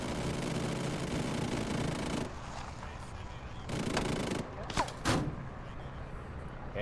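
Sustained automatic gunfire in the military shooter Arma 3, a dense continuous burst roaring for a couple of seconds, then further bursts and sharp close shots with a muffled vehicle rumble between them.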